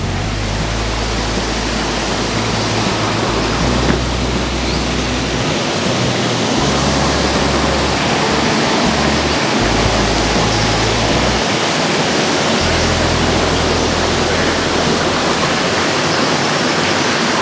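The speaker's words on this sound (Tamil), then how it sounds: "பக்கத்தில் வரும்பொழுது ஏதோ தண்ணி ஓடுற மாதிரியான ஒரு சத்தம் இருக்குது, நீர் ஓடை சவுண்டு" Running water from a stream feature inside the Bait Al Zubair heritage museum makes a continuous, loud, hissing rush like a small waterfall, steady and close for the whole stretch, with a low rumble shifting underneath and no speech.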